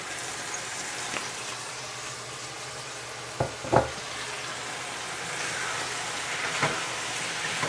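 Mushrooms and peas sizzle steadily in a pan after cooking wine is added, a soft continuous frying hiss with a few brief clatters of utensils against the pan.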